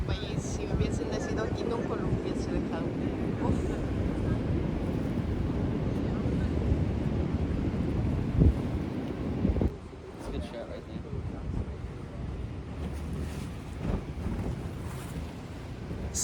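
A powerful waterfall in Switzerland roars in a loud, continuous broadband rush, with wind buffeting the microphone and a brief dip in level partway through.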